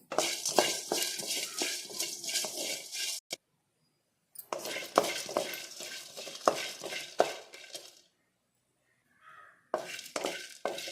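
Cloves and cinnamon are dry-roasted in a pan for homemade sambar powder, with close scraping and stirring strokes and light clinks in bursts broken by two silent gaps, and no speech.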